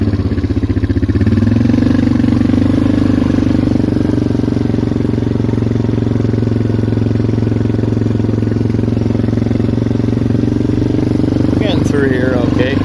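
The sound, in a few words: Polaris Magnum 425 ATV engine on a trail ride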